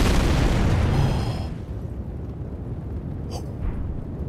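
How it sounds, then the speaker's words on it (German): A fireball explodes in a video game battle against a fire giant boss in Elden Ring, a loud, broad rumbling blast that fades over about a second into a quiet tail with faint game sounds. "Alter, Feuerball explodiert."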